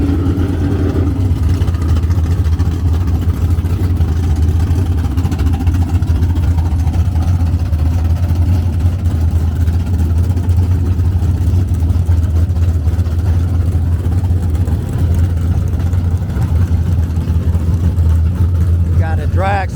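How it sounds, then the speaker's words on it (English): Pro Stock drag racing cars at a drag strip, their engines a loud, continuous low rumble that holds steady throughout, with people talking faintly underneath. "the Pro Stock cars are just loud for no reason"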